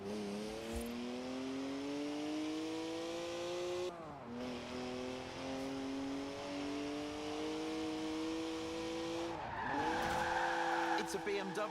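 A BMW drifting sideways in Forza Horizon 4, its engine revving steadily in long sustained notes that briefly drop and climb again, with tires squealing near the end and a voice talking over it.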